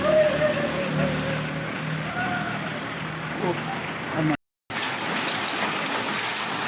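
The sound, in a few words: rain falling in Kashmir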